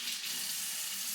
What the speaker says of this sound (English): wash my hands out.